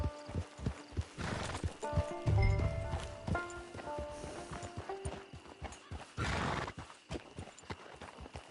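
In Red Dead Redemption Online, a horse whinnies loudly and close by while its hooves clip-clop in an uneven rhythm on the ground, followed by a snort and further trotting steps.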